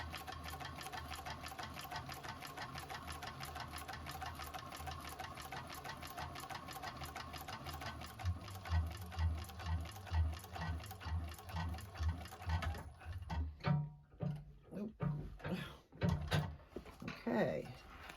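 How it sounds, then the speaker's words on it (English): A 1341 cylinder arm sewing machine top stitches a bag, running in a fast rhythmic chatter that later breaks into short bursts and separate clunks. Close and fairly loud, with a voice talking over it at times. "We're going to top stitch that"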